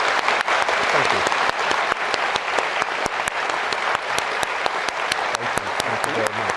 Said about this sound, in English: Round of applause for the Chief Justice.